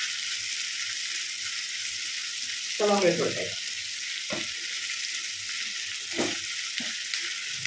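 Small onions sauté toward brown in a pan for an egg theeyal, giving a soft, even frying hiss with a few brief stirring scrapes and knocks.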